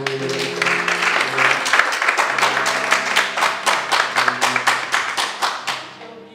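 A church congregation claps in an even, rhythmic beat, loud and close, the hand claps steady and sharp for several seconds.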